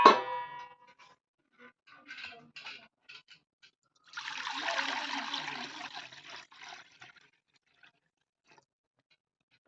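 Water pours steadily into a metal wok for a couple of seconds, preceded by a few light clinks and clatters.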